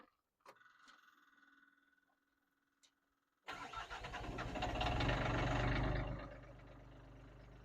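A Komplet concrete crusher's engine cranks and catches after a few quiet clicks, swelling into a loud steady roar that eases slightly to a running drone.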